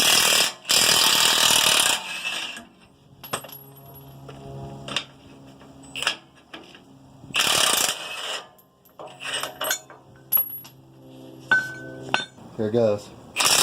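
Metal clanks, scrapes and rattling tool impacts come from removing the leaf spring U-bolts on a straight-axle truck, in irregular bursts. Someone speaks briefly in between.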